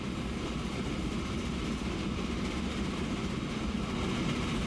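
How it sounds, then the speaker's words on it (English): Train rolling along a line in Transport Fever carrying stone, a steady low rumble of wheels and wagons continuing without pause and with no talk over it. "We'll just follow our train along."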